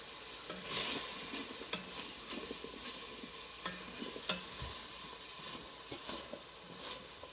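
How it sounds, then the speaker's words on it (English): Chicken curry being stirred in a pan, a quiet close sizzle under repeated scraping strokes of a spoon, with occasional sharper clicks. "So stir it up."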